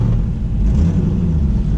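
A Pontiac Trans Am driving at night with its lights off, a steady low engine rumble and road noise filling the cabin, loud and continuous with no talking.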